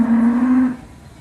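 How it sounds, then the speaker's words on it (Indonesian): A female cow at a livestock market in Temanggung gives one loud, close, drawn-out moo that fades off quickly, heard alone. "Ini contoh sapi betina."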